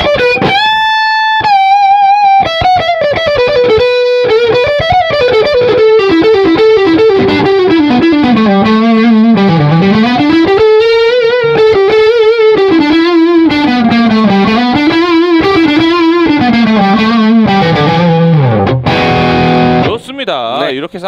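An electric guitar played through Bogner Uberschall and Ecstasy distortion pedals, a heavily driven lead line with bends and fast runs, loud and close, sustaining for about twenty seconds before ringing out.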